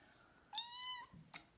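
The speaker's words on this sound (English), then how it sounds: "She's a baby kitten" A baby kitten meows once in a clear, drawn-out cry close by, followed by a shorter faint squeak in a quiet room.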